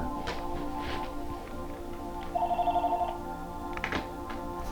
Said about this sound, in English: Excuse me, my phone was ringing.